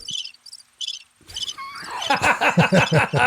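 A person mimics a cricket with a few short, high chirping bursts, then shifts into a louder, rhythmic run of voiced chirps close to the mic.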